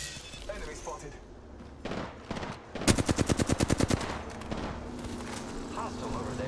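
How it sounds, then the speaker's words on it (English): Gunfire in Apex Legends: a few scattered shots, then a rapid automatic burst of about a dozen sharp, close rounds, followed by more sporadic fire with a voice talking softly in between. "I'm taking fire. Hostile over there. Getting shot at."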